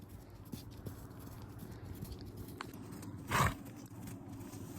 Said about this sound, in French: On garde le trot.